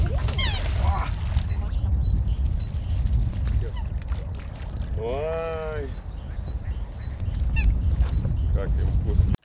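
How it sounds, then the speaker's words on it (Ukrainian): Swans and other water birds on a lake give a few honking calls over a steady outdoor wash of background noise, while a narrator talks over much of it. "Птахи, вочевидь, насолоджуються улюбленим озером."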